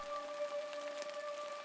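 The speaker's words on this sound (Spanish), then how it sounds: "Afuera, la lluvia golpeaba las ventanas con fuerza" Hard rain beats against windows as a steady, dense hiss of drops, with a faint sustained tone humming underneath throughout.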